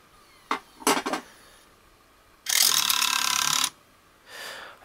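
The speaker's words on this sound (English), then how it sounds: "I just don't know what is causing that huge grinding sound there." A Nintendo Wii disc loading mechanism grinds its gears, with a few short clicking bursts followed by a harsh, sustained mechanical grinding for about a second and a fainter grind trailing after.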